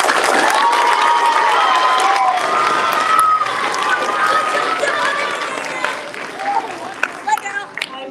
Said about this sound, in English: So please let's give them a quick round of applause.